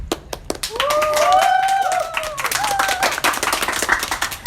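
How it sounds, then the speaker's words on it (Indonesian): A crowd claps steadily with rapid, dense hand claps, while a voice rises briefly over the applause. "Tepuk tangan."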